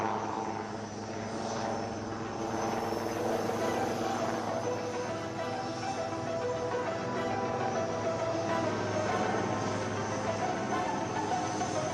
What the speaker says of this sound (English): light combat helicopter Prachand, right in front of you. It's now ready to perform some lateral movement parallel to the runway